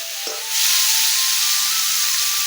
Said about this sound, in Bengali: আমার কপিগুলো ভাজা হয়ে গেছে